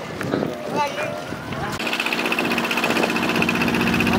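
Engine-powered passenger boat speeding across the sea off Patenga, Chittagong, a loud steady droning engine with a rhythmic pulse and rushing wind noise, starting abruptly after a brief stretch of voices.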